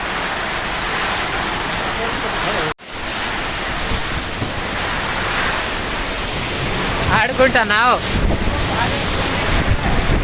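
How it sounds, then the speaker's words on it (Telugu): Steady rain falls in a broad, continuous hiss at dusk on a rural Telugu farm during the year's first rainfall, with gusty wind and a brief dropout. A voice speaks briefly near the end over the rain. "వర్షం కొడుతుంది"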